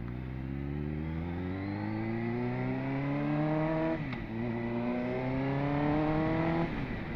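A 21-year-old Suzuki GSX-R sportbike fitted with a GR Moto exhaust revs steadily and loudly, its engine note climbing smoothly in pitch, dipping briefly, then rising again and holding, with no talking.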